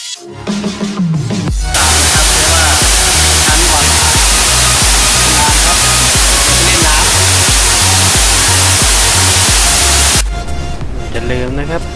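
The second tier of Erawan Waterfall in Thailand roars as a loud, continuous broadband rush of falling water, with rhythmic low thumps beneath it and quieter stretches at the start and end.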